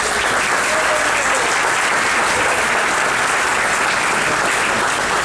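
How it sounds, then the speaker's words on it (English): Loud, dense applause fills the room at a Rotary Club centennial gala celebration, a steady wash of many hands clapping without letup throughout. "so a big round of applause to you."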